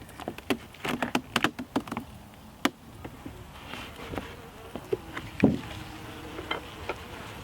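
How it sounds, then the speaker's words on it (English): Honey bees buzz and dart around a nucleus hive during winter feeding, with loud close fly-bys that come and go against a low background hum, and no talking. "I don't want to disturb the bees too much."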